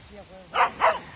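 Dogs bark twice in quick succession, loud and close, after a couple of softer whimpering yelps in a tense outdoor setting.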